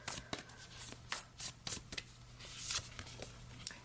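Oracle cards being shuffled by hand in quick bursts of crisp riffling and flicking, close and fairly quiet with short pauses between handfuls, no talking.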